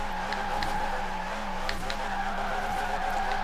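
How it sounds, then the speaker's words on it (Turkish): A roughly 1100-horsepower car drifts in Forza Horizon 4, tires skidding in a continuous squeal over a steady engine drone, with no voices. "drift yaparken arkadaşlar otomatik viteste kullanmayın arabayı"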